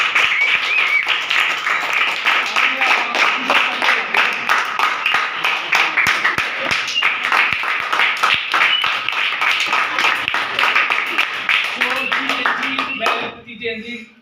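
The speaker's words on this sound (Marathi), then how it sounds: "जोरात टाळ्या प्लीज." Loud, dense applause from an audience at a ceremony honouring scholarship exam rankers, sustained rapid clapping that fills the room for most of the clip before fading out near the end.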